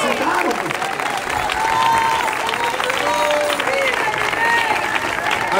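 Sustained applause and some cheering from a gathered crowd at an open-air street evangelism meeting in front of the Government Palace in Quito, with voices calling out over the steady clapping.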